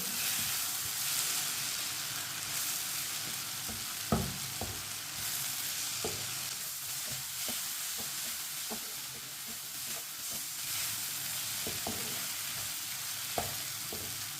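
Red chilli and turmeric spices cook in a pan for stuffed bitter gourd, a constant low hiss and sizzle running throughout, with scattered soft clicks and scrapes of stirring and no talking.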